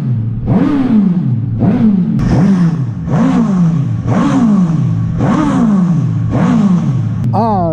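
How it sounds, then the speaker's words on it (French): A Suzuki GSX-S 1000 four-cylinder motorcycle engine revved repeatedly, about seven sharp throttle blips that rise and fall in a regular rhythm, loud and close, with a faint voice underneath. "le son du 4 cylindres"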